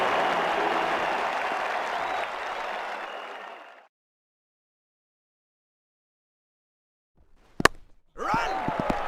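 Cricket crowd at an India v Australia Test match applauding a boundary: sustained loud clapping that fades out after a few seconds, a silent gap, then a sharp knock and renewed crowd noise.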